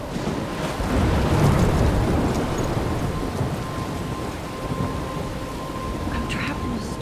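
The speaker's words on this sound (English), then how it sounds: "I'm trapped in a storm?" Thunderstorm in the video game Life Is Strange: steady heavy rain with a deep rolling rumble of thunder swelling early on, a broad continuous wash filling the whole stretch.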